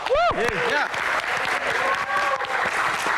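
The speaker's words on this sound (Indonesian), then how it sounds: "Tepuk tangan sekali lagi." Audience applause during a Q&A session with an Indonesian band, steady crowd clapping filling the whole stretch, with an announcer's voice briefly rising over the clapping near the start.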